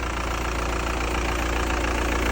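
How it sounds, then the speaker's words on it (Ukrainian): Engine running steadily at a constant loud drone during a hydrogen decarbonization treatment, with a dense, rough idle tone and no voices. "скоро будемо робити фінальну прогазовочку"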